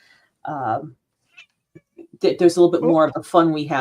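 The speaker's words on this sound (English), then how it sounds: "That's my cat chiming in at this point." A house cat meows once, fairly close and clear, followed by a faint pause, then someone talks on over the quiet background.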